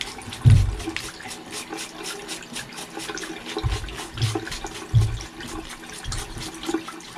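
Tap water splashes and runs steadily while removable bathroom parts are rinsed in a bathtub, with a few louder low gushes and clatters over a continuous watery hiss, fairly close.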